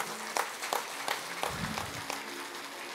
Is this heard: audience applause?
yes